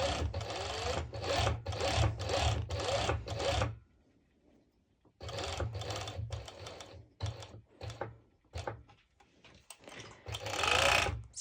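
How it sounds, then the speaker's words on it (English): A serger sewing machine overlocks the edge of fabric for a twisted top with mesh detail, running in several fast bursts with brief pauses and one longer stop midway, close and loud. "So I can actually show you how I'm serging."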